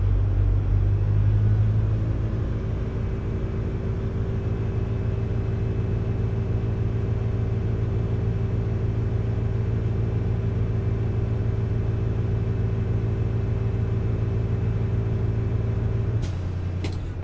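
A Class A truck idles at a steady, close engine rumble for most of the stretch, then its air brake dryer gives a brief, sharp sneeze-like hiss of purged air right near the end.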